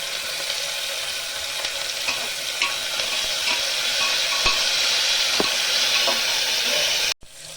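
Onion, garlic, ginger and whole spices fry in oil for rajma, a loud continuous sizzle with light stirring taps, ending in a sudden brief dropout.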